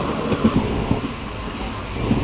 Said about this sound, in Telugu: మా ట్రైన్ చాలా మెల్లగా వెళ్తుంది అబ్బా.